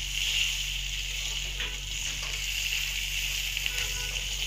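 Chopped onions frying in oil in a pan for a rohu fish-head curry, giving a steady, soft sizzling hiss with a few faint stirring clicks over a low background hum.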